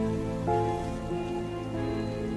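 Steady rain falls throughout an animated story scene, a dense continuous wash with a faint tonal layer running beneath it and a slight swell near the start, with no talk over it.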